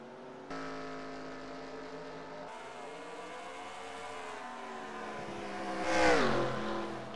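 Race cars in the NASCAR Racing 2003 video game at Auto Club, several engines whining at high revs with pitch shifting, then a louder car sweeping past near the end, no voices.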